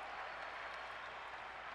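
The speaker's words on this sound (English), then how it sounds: "Very loud Steamroller crowd tonight." A loud baseball crowd at a night game cheers and claps in a steady, dense wash of noise that lasts the whole moment.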